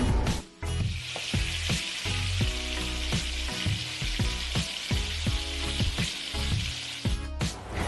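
Moussaka sauce bubbling and sizzling steadily in a pan, a dense continuous hiss broken by irregular pops and soft stirring scrapes, close and fairly loud with no voices.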